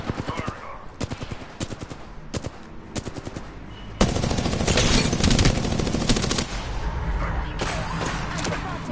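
Apex Legends gunfire: sharp single and repeated shots crack out at first, then a loud continuous burst of automatic fire takes over, with game effects layered underneath.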